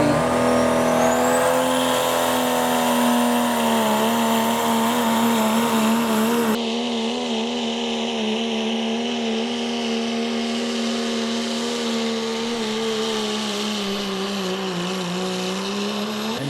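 A pulling truck's engine roars loud and sustained down the track at an Appalachian Outlaws truck and tractor pull, holding a high strained pitch that wavers slightly as the run continues.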